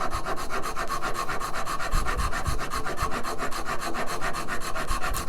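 Steel rasp filing a carved wooden guitar heel, a steady run of fast rhythmic rasping strokes, close and continuous, with no voices.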